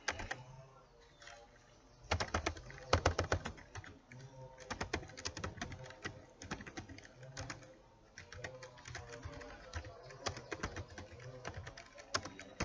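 Someone types a command on a computer keyboard, with close, irregular bursts of crisp key clicks separated by short pauses.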